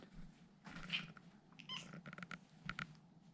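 Soft, faint cat meows and chirps come in short bursts against a quiet room hum.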